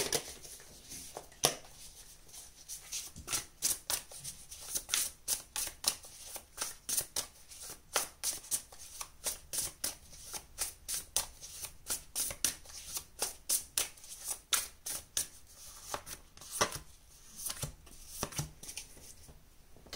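Tarot cards shuffled and drawn by hand, a long close sequence of crisp card flicks and slaps in uneven bursts with short pauses, no talking.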